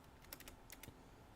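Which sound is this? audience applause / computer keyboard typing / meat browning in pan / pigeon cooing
computer keyboard typing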